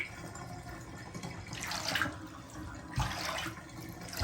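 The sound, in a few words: water draining from tortoise soaking tub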